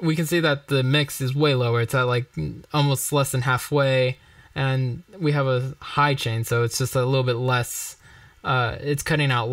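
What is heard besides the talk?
None of the usual background noises is heard.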